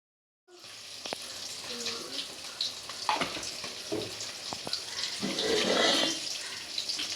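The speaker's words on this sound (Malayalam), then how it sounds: "നമുക്ക് തേങ്ങ വറുത്തെടുക്കാം" Grated coconut roasting in a pan for a baby jackfruit curry: a soft sizzle rises after a short silence, broken by sharp spoon clinks and scraping stirs against the pan, growing fuller toward the end.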